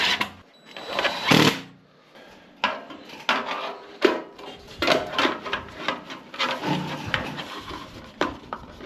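A screw being driven in gives a series of close, irregular grinding whirs and metallic clicks with rubbing and handling noises between bursts, no voices.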